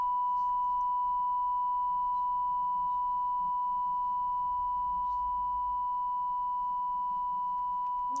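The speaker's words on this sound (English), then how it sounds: "There you go, there's our 1K tone." A steady 1 kHz sine test tone plays back from an Otari MX5050 Mk III-8 reel-to-reel tape recorder, monitored off the record head: one pure, unbroken pitch held evenly throughout with faint hiss beneath.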